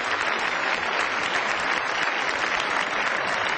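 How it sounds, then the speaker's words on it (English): Crowd at a 1990 Australia versus Pakistan Test cricket match applauding a batsman, a steady, dense roar of clapping sustained evenly throughout, slightly distant and broadcast-like. "Ijaz acknowledging the applause"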